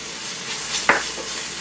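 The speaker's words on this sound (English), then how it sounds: "We're going to saute these onions, get all of the flavors out of the onions." Onions and garlic sauté in a pan with a soft continuous hiss, broken by one brief scrape of a utensil tossing them.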